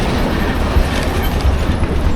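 A train rolls along the rails with a loud, close, continuous rumble and faint rhythmic clacks of the wheels, with no voices.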